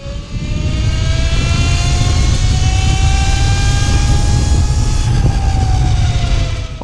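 A Cake Kalk electric motorcycle being ridden: a loud, continuous high motor whine climbs slowly in pitch over a steady rush of wind and road noise.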